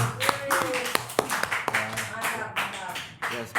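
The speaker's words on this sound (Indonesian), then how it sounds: "Tepuk tangan dulu." An audience applauds on an Indonesian podcast set about vehicle tax and passenger insurance, a burst of uneven handclaps and taps from a small group close by, with voices mixed in.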